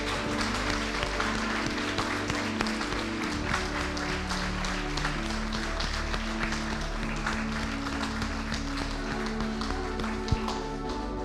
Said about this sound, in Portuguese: Você pode aplaudir esse Senhor?